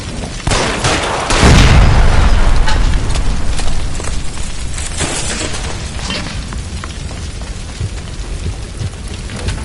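A gas line explosion inside an electroplating building in the L.A. Noire video game: a sudden loud, booming blast with a heavy roar, then a long crackling, rain-like rush of debris and fire that slowly fades.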